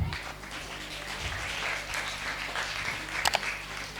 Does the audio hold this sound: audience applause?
yes